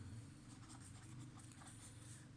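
A pen scratching across paper while a math exercise is worked out, with soft continuous strokes heard close and quiet, with no talking.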